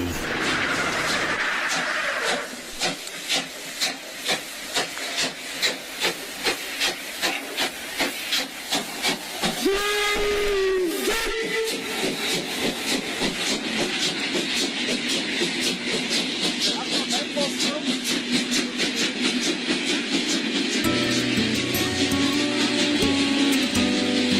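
A steam locomotive chuffs in a rapid rhythmic beat while a whistle sounds briefly, then the train rumbles and hisses steadily as it passes close by.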